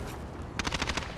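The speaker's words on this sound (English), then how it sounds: "Max, taking fire!" A short, fast burst of automatic gunfire in Call of Duty Modern Warfare, a quick rattle of shots that begins partway in over a low background rumble.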